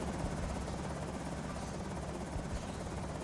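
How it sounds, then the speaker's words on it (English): Helicopter in the video game Project Zomboid: a loud, steady rotor drone with dense low-end thumping, continuous and close for the full stretch. "the helicopter's making so much noise"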